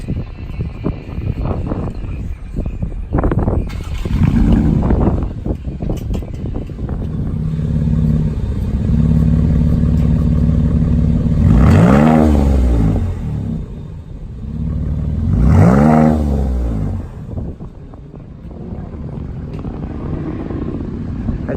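A 2019 Dodge Durango with the V6 rather than the Hemi V8 and a chambered exhaust starts with a loud rumble, settles into a deep idle, then gives two sharp revs that climb and fall back, close and throaty.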